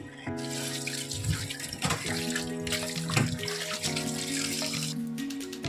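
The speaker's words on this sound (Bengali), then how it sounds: "দেখো এবার চিকেনটাকে ভালো করে ধুয়ে নিচ্ছি।" Running tap water pours over raw chicken being washed in a home kitchen for a Bengali chicken curry, a continuous splashing stream broken by sloshing and handling noises, with no talk.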